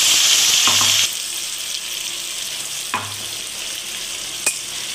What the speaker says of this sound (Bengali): দিয়ে আমি মশলাটা একটু ভেজে নেব